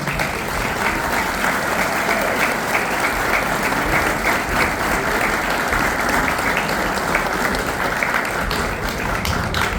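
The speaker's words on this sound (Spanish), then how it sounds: "El aplauso para ellos." A crowd at a Paraguayan arts and culture event in Buenos Aires's Palacio Barolo applauds the performers, loud, continuous clapping that fills the hall at an even level throughout without pause.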